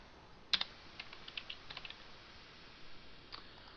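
Quiet, scattered keystrokes on a computer keyboard, a sharp click followed by a short run of light taps and a few isolated presses, with no voices.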